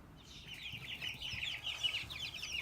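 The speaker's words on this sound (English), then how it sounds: "Another chicken update." Young chicks, almost three weeks old, cluck and peep softly in a continuous, faint chatter of high calls with no talking.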